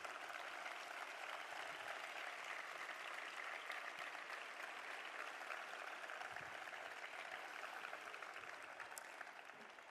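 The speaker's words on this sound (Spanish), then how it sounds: "dar un aplauso y un reconocimiento por su entrega a quien nos ha precedido en el cargo, al señor Carlos González." Steady audience applause fills a gala hall at a festival queens and ladies proclamation, dense and unbroken for the full stretch at moderate distance, fading slightly at the end.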